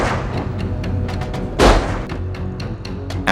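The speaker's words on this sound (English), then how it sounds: "After 2 gunshots" Two pistol gunshots crack out over a dense, rumbling background, with one heavy blast standing out midway among sharper, smaller pops.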